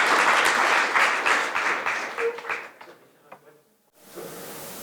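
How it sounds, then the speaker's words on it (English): Lecture audience applause, a dense burst of clapping that thins out and fades after a couple of seconds, followed by a few scattered claps, near silence, then faint room noise. "You don't need to clap again."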